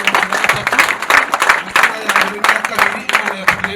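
A church congregation claps rhythmically to thank God at the close of a service, a dense run of hand claps at a brisk, even pulse mixed with crowd voices.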